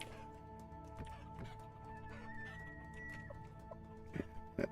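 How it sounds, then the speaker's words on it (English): An elk calls in the game Vintage Story, a drawn-out tonal cry over a busy farmyard background with faint clucking and scattered thumps. "That elk is loud."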